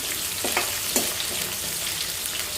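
Cut onions fry lightly in oil for a chandua fish pulusu. A steady, close sizzle is joined by a couple of soft stirring scrapes.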